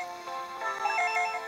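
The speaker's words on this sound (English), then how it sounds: "The phone is ringing on the living room." A telephone rings in the living room in the Game Boy Advance game Dragon Ball Z: Legacy of Goku 2, a bright electronic chiming trill repeating steadily and clearly with no talk over it.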